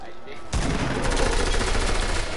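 Rapid automatic gunfire in a building video game, starting abruptly after a short quiet moment and continuing as a loud, dense burst close by.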